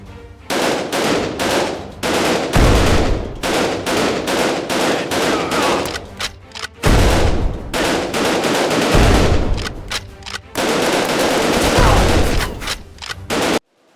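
Gunfire from the PSVR 2 arcade shooter Operation Serpens, loud, rapid automatic bursts separated by brief pauses, dense and continuous throughout.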